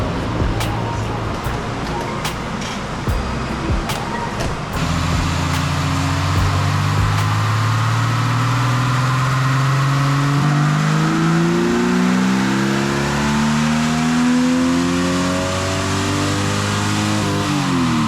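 A Jeep Cherokee on a chassis dyno with its exhaust refitted revs hard, the engine note climbing steadily through the gears as a loud, sustained roar with rising pitch, after a few seconds of rougher mechanical clatter.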